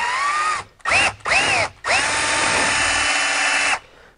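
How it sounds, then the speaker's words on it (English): A power drill bores out rivets on the convertible roof of a 981 Porsche Boxster, running in three short whining bursts and then one longer sustained run, close and loud, with no talk. "So I'm gonna get my little drill ready."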